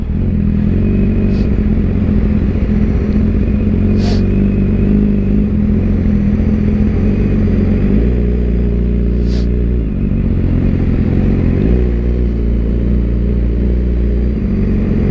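A BMW S1000RR motorcycle engine idles loudly and revs in stop-and-go traffic, with a couple of throttle blips and dips over a continuous close rumble. Faint clatter runs underneath, and no one talks.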